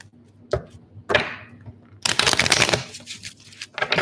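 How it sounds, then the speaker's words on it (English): A deck of tarot cards is shuffled by hand close up, with a short riffle, a brief pause, then a longer burst of crisp flapping and snapping cards. "Shuffle one more time."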